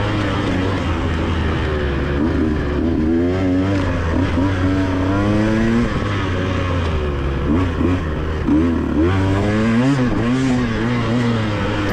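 A two-stroke race motorcycle engine on a motocross-style track screams loudly and continuously, its pitch rising and dropping repeatedly through gear shifts and acceleration, with no talk over it.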